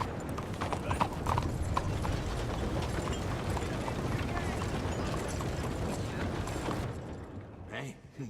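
Horse hooves clip-clop steadily at a trot in the video game Red Dead Redemption 2. The clatter is close and continuous, with a neigh and voices mixed in, before it thins out near the end.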